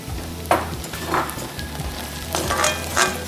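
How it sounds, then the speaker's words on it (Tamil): Papaya pieces frying in oil with onions for a kurma, a steady close sizzle with a few stirring scrapes and swells of crackle, no voices. "இதுவும் நல்லா ஆயிலில் ஃப்ரை ஆகணும் இல்லையா?"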